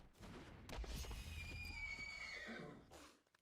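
A unicorn's neigh in a digital card game, one long, loud whinnying cry with hoof clip-clops and game effects beneath it, trailing off at the end.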